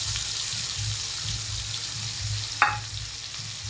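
Ground masala paste sizzles and spits in hot oil in a pan, a steady close frying hiss with one brief sharp clink partway through.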